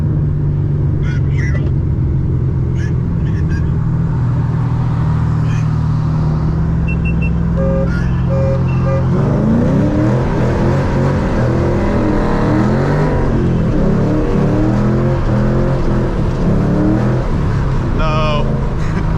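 A Mustang accelerates hard in second gear on a slippery surface, wheels spinning. The engine note rises loud and close, with people talking over it.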